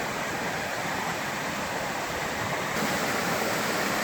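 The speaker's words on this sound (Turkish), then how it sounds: "Mini bir şelale ama gürül gürül akıyor gördüğünüz gibi." The Handere waterfall in the Kazdağları Hanlar area, a small fall cutting through rocks beneath plane trees, rushes in a loud, steady, close roar that never lets up.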